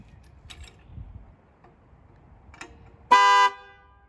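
A tilt alarm on an Alfa Romeo Giulia immobilizer sets off the car horn in one loud, short blast near the end, after a few faint ticks and clicks.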